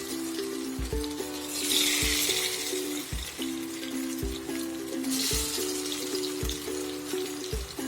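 Pieces of fish sizzle steadily in hot mustard oil over a low flame, a dense crackling hiss broken by a few soft clinks, with a faint tonal hum running underneath.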